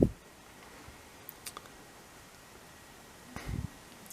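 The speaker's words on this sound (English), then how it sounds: "There's a clicking sound." A memory card pushed into the slot of a Jadfezy action camera, giving a few small, close plastic clicks and light handling rustles against a quiet background, with no talking.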